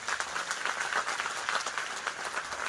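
A crowd at a spiritual discourse gathering claps loudly with raised hands, a dense, continuous burst of applause that stays even and fairly close for the whole stretch.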